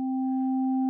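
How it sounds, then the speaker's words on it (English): A steady synthesizer note sounds alone, a pure sine-wave tone with one added harmonic above it, held at an even level for under a second and cut off sharply at both ends. "If I play a note, you can see in here we've got a sine wave"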